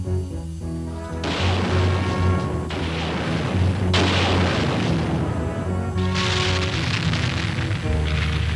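Heavy artillery fire from a World War II artillery duel with Axis forces near Monte Cassino: loud, deep booms land in repeated bursts a few seconds apart, each rolling out over a continuous rumbling background with no voices.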